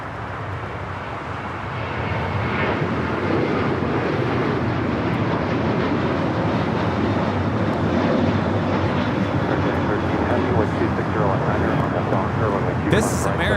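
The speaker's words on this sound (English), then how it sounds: "This is American Airlines 2608 taking off to Austin on the 737-800 in the TWA retro livery" An American Airlines Boeing 737-800 in TWA retro livery takes off at LAX, a loud, building jet roar that swells after the first seconds and stays strong, with someone talking over it.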